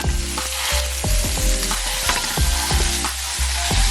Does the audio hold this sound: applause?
no